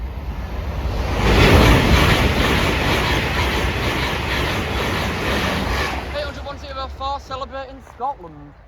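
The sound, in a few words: Class 800 train passing level crossing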